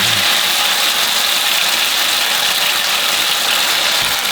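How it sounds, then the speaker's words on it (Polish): An engine runs steadily at idle, a loud, constant rumble with a faint rattle, no voices over it. "dit is een motor."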